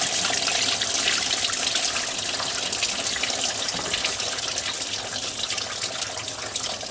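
Antifreeze coolant drains steadily out of a Dodge Nitro engine, a continuous close trickling and splashing of liquid that holds at an even level for the whole stretch with no pauses.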